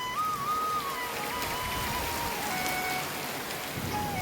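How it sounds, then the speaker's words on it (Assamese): Steady rain falls all around, a dense, even patter that continues for the whole stretch with no voices. "বৰষুণৰ শব্দবোৰ চৌপাশে"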